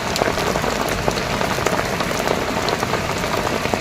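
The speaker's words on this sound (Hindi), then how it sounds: "बहुत तेज़ बारिश हो रही है, बहुत तेज़।" Heavy rain pours down steadily on a rooftop, a dense hiss of drops striking a hard surface nearby, with no voices.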